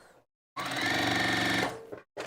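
Sewing machine stitching a steady run on scrap fabric during a quilting session, loud and close, running continuously for about a second before stopping, with a brief tail of handling noise afterward.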